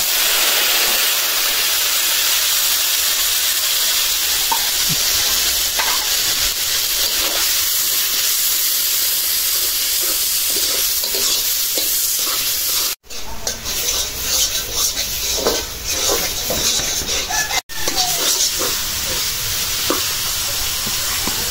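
Red amaranth greens frying in a pan with garlic and dried chilli give a loud, steady hiss and sizzle throughout, with occasional stirring clatter and two brief drops in the sizzle.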